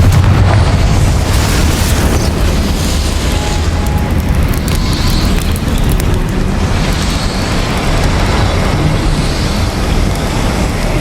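Confringo fire-blast spell in Hogwarts Legacy, a dense, loud, sustained roar of booming blast energy that fills the scene continuously with no pauses or talk.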